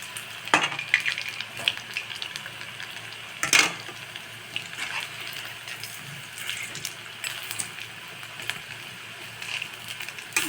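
Sabudana bondas frying in hot oil, a steady close bubbling sizzle with scattered sharp clinks and scrapes as they are turned, no speech.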